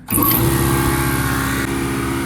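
A 1983 Chevy G20 van's engine cranks over and catches, then revs steadily with a loud, rough idle that holds for a couple of seconds.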